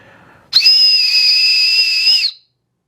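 One loud, shrill survival whistle blast lasting about two seconds, piercing and steady before cutting off abruptly into silence.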